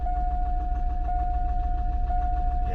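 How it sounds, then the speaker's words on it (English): A car engine with a warning-light fault runs at a steady idle nearby, a rough, uneven rumble with a faint repeating tick and a persistent whining tone over it. "Yeah, engine does sound quite bad as well."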